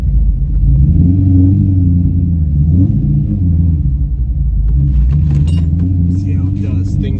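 A C5 Corvette's V8 rumbles low and steady as the car pulls away, a deep continuous drone close by, with people talking over it and brief rattles near the end.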